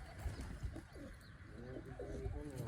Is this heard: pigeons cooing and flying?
yes